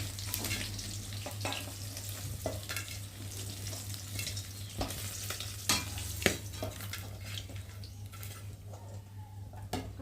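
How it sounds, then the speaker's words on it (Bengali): Small fish frying in hot oil, a continuous close crackling sizzle with occasional sharp stirring clicks over a low steady hum, no talking. "ওই তেলের মধ্যে আবার যে মাছগুলো আছে ওগুলো দিয়ে ভেজে নেবো"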